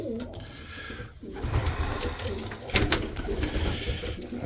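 Racing pigeons coo softly in a loft, a low repeated murmuring that runs steadily throughout with a few brief sharper noises, fairly close.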